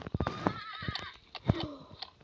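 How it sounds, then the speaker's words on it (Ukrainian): A horse in the Roblox game 99 Nights neighs with a wavering whinny over a series of sharp hoof clip-clops, close and clear with no talk. "Тут кінь."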